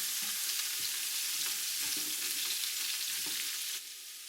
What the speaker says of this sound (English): Mix around the white onions and green pepper with the butter.